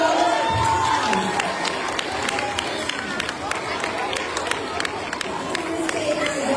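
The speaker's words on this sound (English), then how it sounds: "Let's give her a round of applause" Children at a Friday school assembly applaud and cheer, with a crowd murmur, scattered sharp claps and shouts, and footsteps or running underneath as someone moves across the room.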